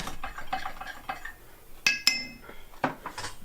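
Spoon stirring homemade bread mixture in a bowl, soft scraping strokes broken by a few sharp clinks against the bowl, close and fairly quiet with no talk.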